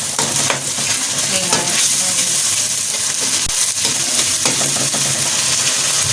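Ginger garlic paste fries in a hot pan for baingan bharta, giving a continuous close sizzle broken by a few stirring scrapes and light knocks, with no talk.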